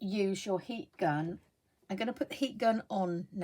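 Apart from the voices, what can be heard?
No everyday noise stands out behind the speech.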